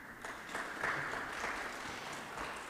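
Audience applause in a conference auditorium, a steady patter of many hands clapping at moderate distance throughout, with no talk over it.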